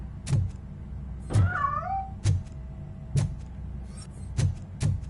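A cat meows in a Robocop game scene, one clear rising-and-falling meow set among several sharp, evenly spaced knocks or thuds in a quiet room, with no talking.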